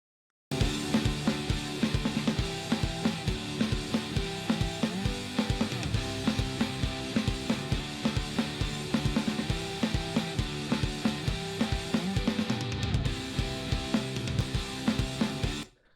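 Processed guitars, clean and distorted, playing a steady dense riff together with a full drum kit, loud and continuous for the whole stretch with regular drum hits, no talking.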